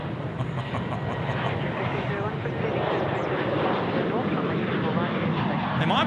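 A jet airliner departing from the runway at Sydney Airport, a loud, steady broadband engine roar that holds for several seconds, heard from a distance and rising slightly at the end.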